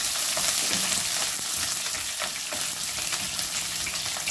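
Garlic and onion frying in a pan for a chicken and mushroom dish: a dense, even sizzle fills the whole stretch, close and loud, with faint stirring scrapes and no talking.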